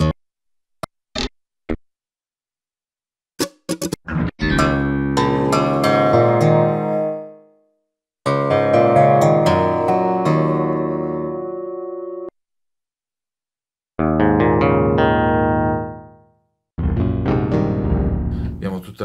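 Guitar patches from a Sequential Prophet X synthesizer, heard as a few short plucked ticks and then several sustained strummed phrases separated by gaps of silence, played alone and fairly loud.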